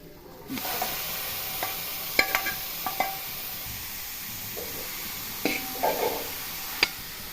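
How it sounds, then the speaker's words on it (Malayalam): Chicken sizzles in a hot pan while a spatula clinks and scrapes against it in scattered strokes, close by, with no speech. "അതൊന്ന് വഴറ്റിയതിന് ശേഷം നമുക്ക് ഇതിലേക്ക് ചിക്കൻ ഇടാം"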